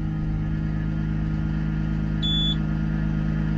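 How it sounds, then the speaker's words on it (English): An XCMG XC series wheel loader's weigh scale gives a single short, clear electronic beep while weighing a lifted load, heard over the loader's steady, loud engine drone. "The beep you heard is the weigh scale telling you that it's weighing."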